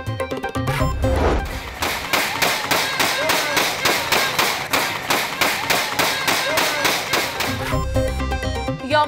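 Aerial gunfire in a crowded market on Independence Day in Lahore, a long run of sharp, evenly spaced loud bangs under a steady background hum, close and dominant.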